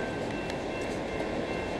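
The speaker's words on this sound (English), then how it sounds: "Oh my goodness, it's a train!" Steady rumbling roar of a double-decker train rolling past nearby, continuous and loud, with faint rail clatter and no voices.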